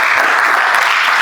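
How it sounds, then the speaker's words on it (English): Brief burst of dense audience clapping at a talk on youth opportunities, loud and steady throughout, no voices over it. "Please clap for him,"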